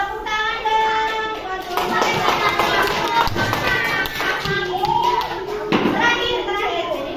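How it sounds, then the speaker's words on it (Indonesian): Children clap their hands in a classroom in a burst of quick, overlapping taps, mixed with kids' chatter and an adult's voice speaking over the noise. "Tepuk tangan dong."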